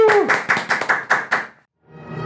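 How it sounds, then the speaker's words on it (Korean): Clapping at a theology-student class presentation welcoming a guest speaker, heard as about seven loud, separate slaps in an uneven rhythm over roughly a second and a half, then a short silence before faint background sound. "다 같이 큰 박수로 환영해 주세요."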